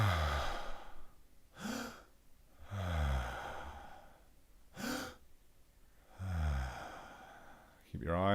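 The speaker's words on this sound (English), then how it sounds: "They're recovery breaths." A freediver's recovery breathing after a breath hold, three or four deep, forceful inhale and exhale cycles spaced a couple of seconds apart, close and loud with quiet gaps between.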